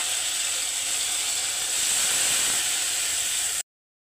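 Green chili, onion and cumin paste fries in a pan as a steady, loud hiss and crackle, continuous for about three and a half seconds before cutting off abruptly.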